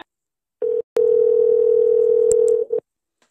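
Telephone tone during a recorded phone call to a cosmetics company's line: a short beep, then a long steady single-pitch tone lasting under two seconds, ending with a brief blip, loud and clear without talking.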